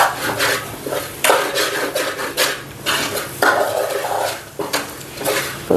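Chili powder stirred in a hot pan over a low flame while making beef curry: repeated scraping and rasping strokes of a utensil against the metal, close and fairly loud, in uneven bursts with no talking.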